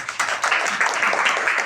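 Children clapping together in a classroom spelling competition, a brief burst of dense, rapid applause that starts abruptly and holds steady.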